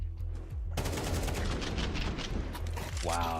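Rapid automatic gunfire sprays continuously in a competitive video game match, loud and dense with overlapping bursts, a brief lull at the start and a rising synthetic tone near the end.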